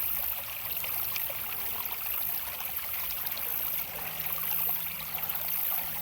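Water runs steadily through a gold prospecting sluice beside a creek, a continuous close trickling and splashing rush with no speech over it.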